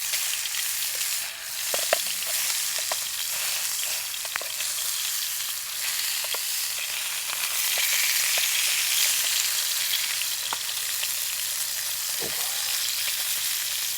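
Bacon sizzles and crackles steadily in a pan over a camp stove outdoors, a dense continuous frying hiss with scattered sharp pops and spits throughout.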